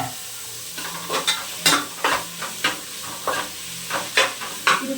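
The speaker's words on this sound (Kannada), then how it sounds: "ಇದು ಚೆನ್ನಾಗಿ ಫ್ರೈ ಮಾಡ್ಕೊಳ್ತೀನಿ." Peas and tomatoes fry in a pan under a steady sizzle while a spoon stirs and scrapes them in regular strokes about every half second, close and clear.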